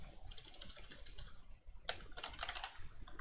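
Quiet, close typing on a computer keyboard, with irregular rapid key clicks in clusters, one sharper keystroke partway through, and no talking.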